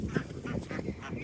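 Ducks quack on a farm during morning chores, several short nasal calls in quick succession, close and fairly loud with no talk over them.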